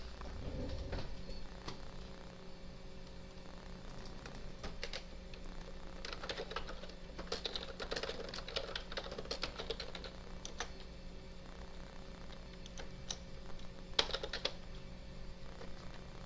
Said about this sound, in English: had to hit the backspace key. Mistyped.